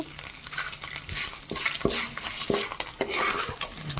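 Spices frying on a low flame for mango pulihora crackle steadily while a metal spoon stirs and scrapes the pan in repeated close clinks and knocks.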